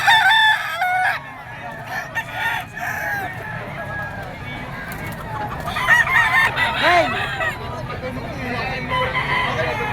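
Roosters crow loudly and repeatedly over a busy gamecock market at Bocaue, with clucking fowl and someone talking nearby amid steady crowd noise.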